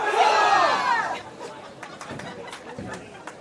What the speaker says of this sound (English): as the boys and the girls team cheer each other on